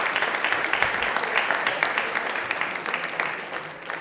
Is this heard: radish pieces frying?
no